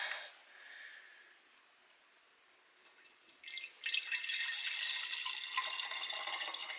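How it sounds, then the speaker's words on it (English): Homemade scrap vinegar dripping and trickling through a small strainer and cheesecloth into a clean jar, faint at first, then a louder, steady splashing stream toward the end. "we'll just do a second straining straight into the cleaned jar with the smaller strainer there"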